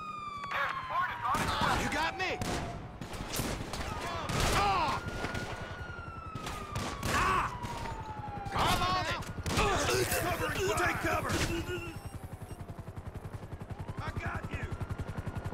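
Gunfire in Grand Theft Auto V rattles in repeated loud bursts over a wailing police siren, with the shots clustered between pauses and in-game voices talking in between.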